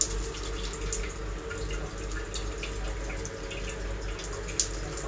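Westrend A3141 five-mode massage shower head spraying water at low pressure for a water heater, a steady hissing spray with faint drips, constant and close throughout.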